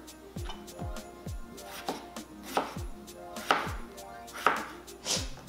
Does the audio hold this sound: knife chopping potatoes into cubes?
yes